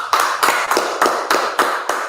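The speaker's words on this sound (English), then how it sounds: "Clap it up." A few people clap in a slow, steady rhythm of about seven sharp claps spaced roughly a third of a second apart, close and fairly loud, with no talk over them.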